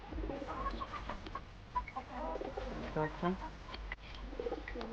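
Pigeons coo and murmur close by while being fed, with scattered bird calls and soft background noise; a person talks briefly among them.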